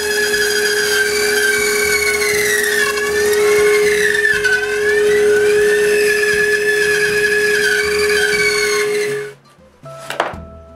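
Band saw cutting laminated wooden moulds, a loud steady whine with a high sustained tone, running continuously before winding down near the end, followed by a brief clatter.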